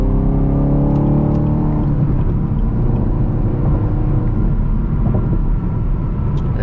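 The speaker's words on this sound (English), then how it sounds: "I'm just gonna shift some gears" A manual car's engine revs up under acceleration with a rising whine, then the pitch drops briefly as a gear shift happens before the steady engine rumble and road noise continue, loud and close from inside the cabin.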